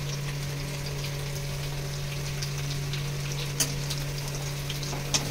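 Onion frying in oil with cardamom, cinnamon and cloves for chicken curry makes a steady, even sizzle, with a couple of sharp clicks near the end.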